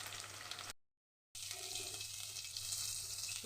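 Crushed garlic cloves sizzle in a hot pan with okra and black cumin seeds, a steady close frying hiss broken by a brief silent gap near the start.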